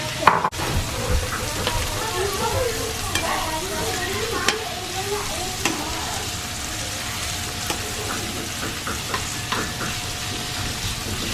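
A large batch of taco vegetables cooks in a pan with a steady close sizzle, broken by stirring scrapes and clicks from a utensil, while voices talk briefly over the frying.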